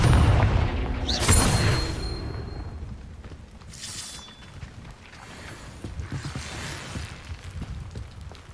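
A Confringo blasting spell explodes in Hogwarts Legacy, a loud booming burst with crackling debris near the start, followed by quieter rumbling and a couple of fainter blasts later.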